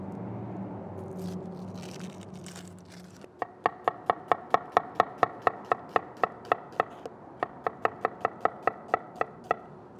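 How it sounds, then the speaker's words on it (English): A knife slices a yellow onion thin on a cutting board, making a fast, even run of crisp close taps, about two per second, with a short pause partway through. "Just gonna take one yellow onion here, we'll get it peeled and sliced nice and thin"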